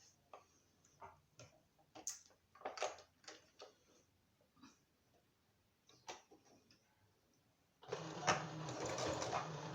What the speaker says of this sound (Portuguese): eu vou lá na máquina, eu vou fazer uma costurinha aqui bem na beiradinha